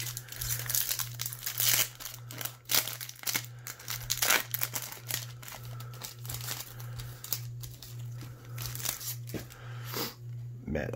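Baseball card pack from hobby and retail boxes being torn open and handled, close crinkling and ripping of foil wrapper in repeated sharp bursts, with a faint steady hum behind and occasional quiet speech.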